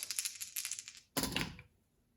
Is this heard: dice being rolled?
yes